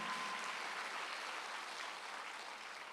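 A church congregation during a Sunday worship service claps together, a soft, distant, steady patter of many hands that fades slightly toward the end.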